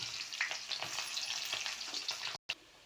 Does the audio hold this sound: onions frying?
yes